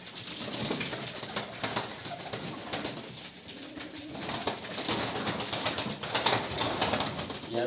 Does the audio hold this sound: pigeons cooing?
yes